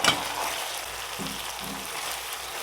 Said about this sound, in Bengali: মশলার সাথে এবার চিকেনগুলো ভালো করে কষিয়ে নেব